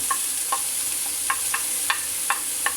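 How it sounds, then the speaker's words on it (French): Diced onions and red pepper fry in olive oil in a pan, with a steady sizzle and a series of light stirring clicks at close range. "Et ici, on vient poser donc nos légumes, à savoir les oignons et le poivron rouge, coupé en petits cubes."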